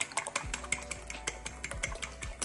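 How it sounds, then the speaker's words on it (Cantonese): Eggs beaten in a bowl for a tomato, scallop and chicken egg drop udon soup: a quick, uneven run of close, light clicking taps against the bowl, with no talking. "雞蛋呢就發下佢"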